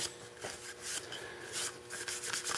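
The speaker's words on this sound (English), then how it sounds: "rub off any denatured alcohol" Cloth rubbing over the surface of a small wooden box under repair to wipe off denatured alcohol, soft repeated swishing strokes in uneven rhythm, close and quiet.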